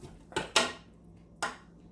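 Cut beef pieces for bone soup tumble into a power cooker pot in three short, dull clattering thuds, close and fairly quiet, with near silence between them.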